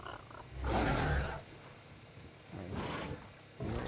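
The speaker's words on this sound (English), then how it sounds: "There is an evil terror bird outside of my base, making a bunch of noise." A terror bird in the video game ARK: Survival Ascended lets out three rough roaring calls, each lasting about a second with short gaps between them, loud and close.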